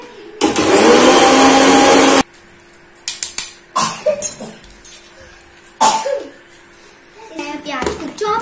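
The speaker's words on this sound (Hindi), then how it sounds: "देखिए फ्रेंड्स ये हमारे पास चॉपर है" An electric chopper whirs loudly for about two seconds as it chops onion with red chili and salt, followed by quieter clicks and handling sounds while someone talks.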